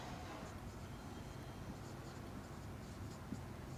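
Marker or chalk scratching across a board during a Class 10 maths lesson on right circular cones, a steady low scraping texture that runs the whole stretch at a quiet level with no talk over it.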